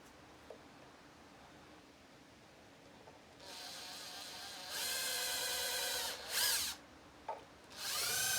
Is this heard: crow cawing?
no